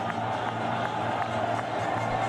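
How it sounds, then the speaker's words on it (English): A cricket stadium crowd roars for Shahid Afridi after his five-wicket haul in Pakistan versus Sri Lanka, a loud, continuous wash of cheering with a commentator's voice under it. "This is why this crowd goes nuts."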